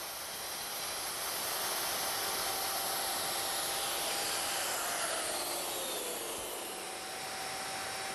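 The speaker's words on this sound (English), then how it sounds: "now I'm finally ready to cut that tenon" A router cuts a tenon on a wooden blank using a mortise and tenon jig in a woodshop, giving a steady loud hissing whine that holds for the whole stretch with slight shifts in pitch as the cut moves.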